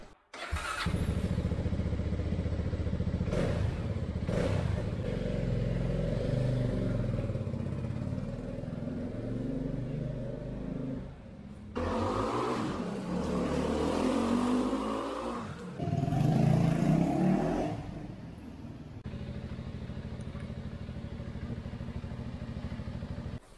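A Voge 300DS motorcycle engine runs and revs close by while riding, with a steady idle broken by several louder surging revs and short drops between bursts.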